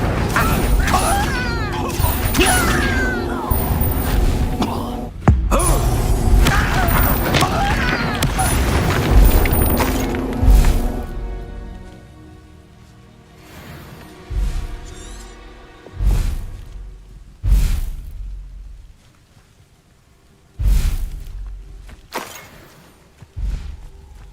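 A fiery Incendio spell blast cast in the Banishers video game, a series of loud booming bursts at first, then separate thumping impacts spaced a couple of seconds apart, with a voice speaking over parts of it.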